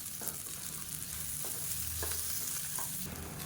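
Mint, dried red chillies and grated coconut sautéing in a pan for biryani masala, a soft, fairly quiet sizzle with a few light stirring scrapes.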